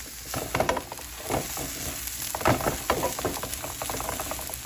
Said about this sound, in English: So I'm gonna add in my 7 ounces of lean ground turkey and my olives. And we're gonna stir that up.